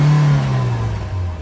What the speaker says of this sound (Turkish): Ovozni ham eshitasiz, motor ovozi juda past.